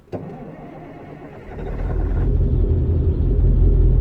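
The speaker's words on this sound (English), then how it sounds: "Let's go ahead and fire up the engine and see what it sounds like." In American Truck Simulator, a click, then a truck engine cranks and catches, settling into a growing low rumble that swells and holds steady, close and loud.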